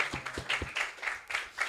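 Small group claps at a scout gathering, a short, fairly quiet patter of hand claps in an uneven rhythm with no voices over it.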